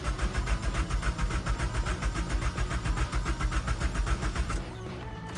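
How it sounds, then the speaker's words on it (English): An SR20-powered Infiniti G20 engine cranks over steadily without catching, a loud rhythmic starter churn running about four and a half seconds before cutting off into quiet. "Let's give her a crank."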